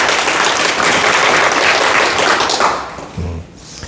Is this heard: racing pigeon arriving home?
no